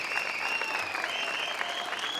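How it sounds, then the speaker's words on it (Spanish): Audience applause for the musicians at a live concert in Aibar, a dense, steady clapping crowd throughout, with a faint voice partly underneath. "Un aplauso para el maestro Koldo Pastor"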